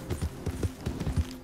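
Horse hooves in Red Dead Redemption 2, a steady clip-clop of hoofbeats at a trotting rhythm, soft and muffled at moderate distance, with no talk.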